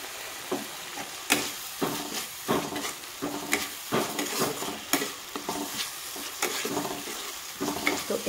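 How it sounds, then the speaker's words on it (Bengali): Boiled kidney beans tossed into spiced oil for rajma sizzle loudly up close, broken by repeated rhythmic scrapes and clanks of a spoon stirring in the pan. "এখন আমি দিয়ে দিব সিদ্ধ করে রাখা রাজমা"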